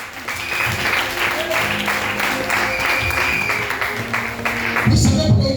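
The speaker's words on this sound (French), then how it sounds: "acclame Jésus pour ça." A church congregation bursts into sustained applause to acclaim Jesus during a worship service, dense clapping and crowd noise filling the room, swelling louder toward the end with voices mixed in.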